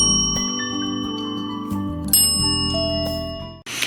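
A bright bell chime rings out as a notification reminder, layered over steady sustained tones, then cuts off abruptly near the end.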